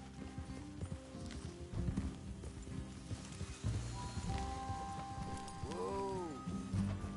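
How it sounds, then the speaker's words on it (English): Horses in a video game walk with soft, irregular clip-clop hoof steps close by, accompanied by faint creaks and ambient background tones. "Let's leave the horses here and take a look."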